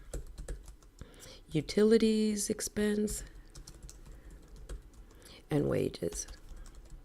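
Computer keyboard typing in short clicky bursts, heard under a voice reading out accounting terms, with quieter keystrokes continuing between phrases.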